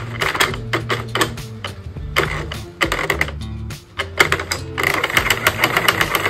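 A Sentro plastic knitting machine cranked by hand, a loud rapid clatter of needles clicking in bursts with short pauses between turns, close up and without talk.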